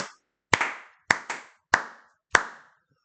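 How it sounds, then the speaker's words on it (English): Five sharp hand claps from one nearby person, falling in an uneven rhythm with a short pause after the first and quick pairs in the middle, each crisp and alone against silence. "Clap it in, Smokey"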